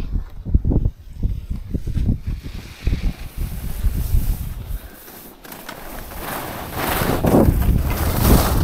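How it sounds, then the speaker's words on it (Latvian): Wind gusts buffet the microphone outdoors during a shared outing, a loud rumbling rush that swells and fades throughout with no talking. "O, te ir vējiņš, nekur citur nebija vējiņš."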